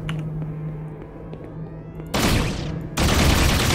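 Bursts of rapid gunfire in the shooter game Project Warlock 2: a quiet stretch with a low hum, then two loud, dense volleys of shots that start abruptly, close and harsh, with no talking.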